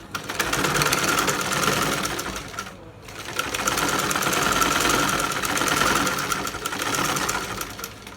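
An electric sewing machine runs continuously close by while stitching a kameez shoulder seam, a rapid buzzing whir that pauses briefly before starting again.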